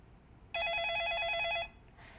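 A telephone rings once for an incoming call, a single bright electronic ring burst lasting about a second, heard clearly in an otherwise quiet room.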